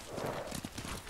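Horse hooves clip-clopping in the video game Ghost of Tsushima, a quick rhythmic series of thuds close and moderately loud, with a faint whinny-like sound.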